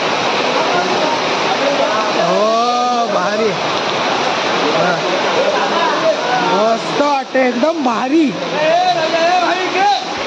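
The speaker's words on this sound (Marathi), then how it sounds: "बघा केवढा मोठा पाऊस आलाय" Heavy rain pours at a farmhouse where people are swimming, a loud, continuous roar throughout, while several people talk and exclaim over it.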